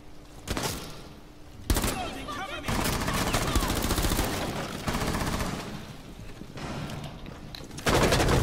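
Rapid automatic gunfire and bursts of shots from the video game Rainbow Six Siege fill the clip almost continuously, loud and close, with a player's voice faintly underneath.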